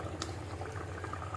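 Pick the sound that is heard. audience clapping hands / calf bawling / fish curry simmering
fish curry simmering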